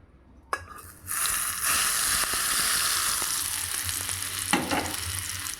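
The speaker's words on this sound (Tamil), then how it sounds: "அரைச்சி வச்ச சட்னியில் எண்ணெயை இப்போ சேர்த்துடலாங்க." Hot oil poured over ground shallot chutney hits with a loud close sizzle that holds steady for several seconds, with a clatter of utensils at the start and a second burst of crackling near the end.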